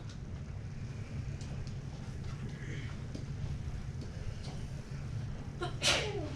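A single sneeze during a math lesson, one short sharp burst near the end after several seconds of quiet room noise.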